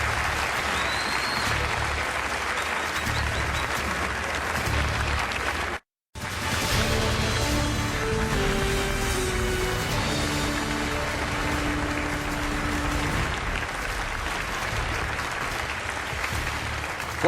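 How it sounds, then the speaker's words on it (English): Studio audience applauding for the candidates at a televised Republican presidential debate in 2016: sustained, dense clapping from a large crowd with a brief cut partway through, then clapping again with faint tones over it. "Please give some applause to the candidates."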